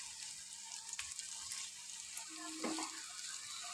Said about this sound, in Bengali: পেঁয়াজটা সেদ্ধ হয়ে এসছে, এর মধ্যে এবার চিকেনটা আমরা দিয়ে দেবো